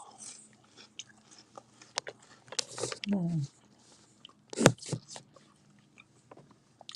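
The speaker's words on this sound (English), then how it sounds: "Some people are triggered by eating, crunching." Someone eats crunchy food, with scattered close biting and crunching clicks spaced irregularly over a quiet background, plus brief vocal sounds in between.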